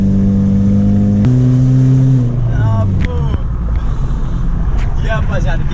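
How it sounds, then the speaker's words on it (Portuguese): A Ford Focus with a loud exhaust holds a steady idle that climbs into a rev, then the engine settles as people talk over the rumble. "Pergunta se ele tá gostando do ronco do carro."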